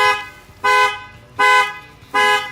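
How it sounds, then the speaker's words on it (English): Car alarm with an aftermarket shock-sensor add-on sounding off in loud, evenly spaced electronic blasts, three long tones roughly every three-quarters of a second, close by with no talk. "If somebody walks up and they try to break your window, your key lock or whatever, I'll fire off the alarm"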